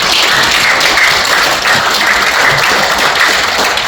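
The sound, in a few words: applause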